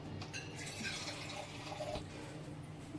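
Cold water poured from a vessel over freshly cooked noodles in a strainer, a soft continuous splashing trickle, close and fairly quiet, with no talk.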